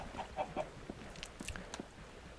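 Chickens in the video game Minecraft give several short, quiet clucks in quick succession, then scattered soft blocky game sounds.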